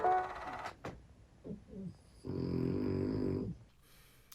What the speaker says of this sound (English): my dog's off camera snoring